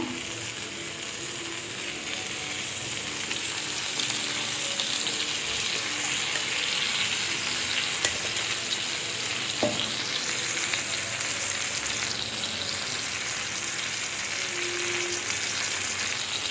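Tilapia fillets fry in shallow oil with a long, even crackling sizzle that stays close and steady, with an occasional faint tap of a utensil.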